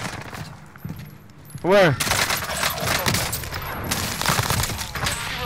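Intense automatic gunfire in Warzone on the Verdansk map, dense overlapping bursts from several weapons continuing throughout, with a sharp whooshing effect early on and players talking over the shooting.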